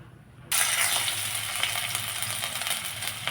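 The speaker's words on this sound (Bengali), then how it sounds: "ফোড়নে কালো জিরে দিয়েছি" Nigella seeds hit hot mustard oil left over from frying aubergine, bursting into a sudden loud sizzle that stays dense and crackling right up close, with no voices.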